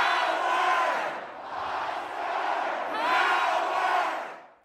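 Nebraska student audience screaming and roaring as a rapper takes the stage, a loud, dense crowd yell that surges in waves, dips briefly, swells again and then fades out.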